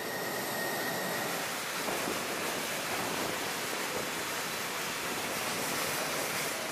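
Wash-down sprinkler system spraying water across an aircraft carrier deck to clean aircraft, a steady broad hiss of spray with no pauses, loud and continuous throughout.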